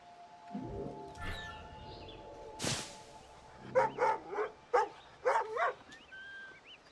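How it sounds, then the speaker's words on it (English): Several dogs bark in Assassin's Creed Rogue, a burst of sharp woofs and yips in quick succession in the second half, fairly close, after a single loud crack and some low rumbling; no talk. "Dogs in this."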